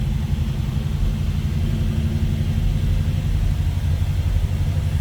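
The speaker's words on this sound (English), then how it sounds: "Let's go ahead and fire this one up. Again, small block Chevy power," A 350 small-block V8 in a 1957 Chevrolet Bel Air two-door hardtop runs with a deep, even, loud low rumble, steady from start to finish with no talking.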